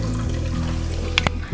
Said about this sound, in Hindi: आपके देखते देखते ही देखें जूस निकल भी आया है